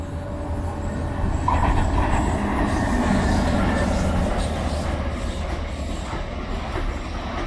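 A non-stopping train rolls steadily through Sant Vicenç de Calders station at speed, a continuous loud rumble of wheels on rails with faint metallic squeals, staying close and constant throughout.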